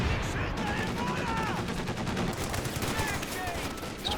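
Mortar and gunfire in the World War II strategy game Company of Heroes 2, a dense run of booming and crackling shots that continues through the clip while a commentator talks over it.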